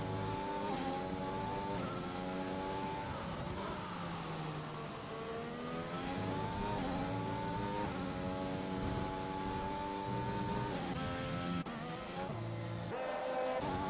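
Formula 1 cars accelerate in the F1 2021 video game at Belgium, their high engine whine climbing and shifting continuously and loudly, with several pitches overlapping as cars race close together.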